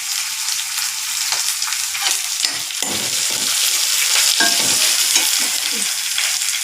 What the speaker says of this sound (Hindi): अब उसमें हम हरी मिर्च को डालेंगे।